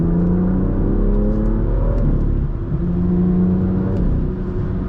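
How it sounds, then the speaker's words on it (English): An M2 car with its stock exhaust revs up, rising and falling engine tones with a deep rumble close by, loud and alone without talk. "this car sounds so good with the stock exhaust"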